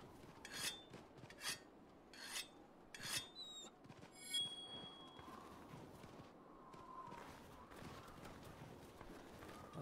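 Rasping whetstone strokes sharpening a weapon in the Monster Hunter Rise video game, several quick scraping passes at a moderate distance, followed by softer ambient game sounds.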